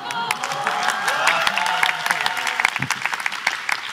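Audience applause fills the room at a talk, a dense steady patter of many hands clapping with a few louder claps standing out near the end.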